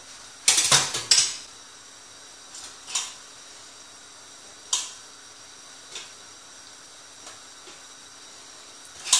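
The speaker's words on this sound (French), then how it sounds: "Je vais mettre mes pommes de terre par-dessus." Potatoes are set on top in a tagine, making a few sharp clattering knocks at first, then sparse light clinks and taps of cookware spread out over quiet background.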